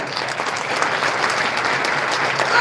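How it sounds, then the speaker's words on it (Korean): A church congregation at Hadong Church claps together in a dense, even burst of applause, close and lively for a couple of seconds. "박수 한번 쳐요"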